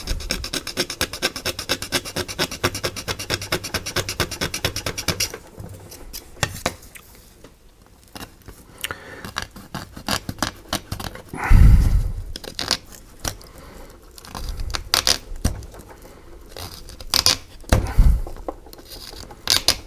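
A small hobby saw grinds and rasps through plastic on a 1/48 scale model kit in steady strokes, the cutting turning rougher and more stuttering as the blade binds and catches.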